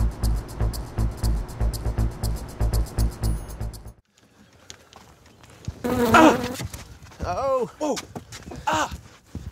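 A bee buzzes in a dense, pulsing burst, then falls away as voices take over in the second half.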